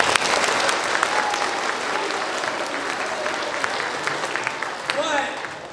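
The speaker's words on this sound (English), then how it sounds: "Everyone give them some claps." A school audience claps at an assembly presentation, a broad steady patter of many hands with scattered sharper claps, gradually thinning toward the end as a few voices and cheers break through.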